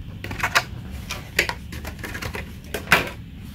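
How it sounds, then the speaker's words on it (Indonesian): Plastic packaging of Deli combination pliers with CRV steel jaws and TPR handles is opened, giving sharp crinkles and clicks in irregular bursts over low background hiss, with no talking. "Langsung unboxing aja guys."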